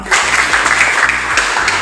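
Applause in a classroom lesson, a small group of students clapping steadily and fairly close for under two seconds, with a low hum underneath and no talk.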